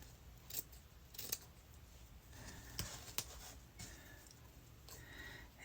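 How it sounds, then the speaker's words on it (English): Scissors cutting through material while a tag pouch is finished, a few sharp snips scattered over a low steady background hiss, close but faint, with no talking. "I'm going to cut some of this off of here"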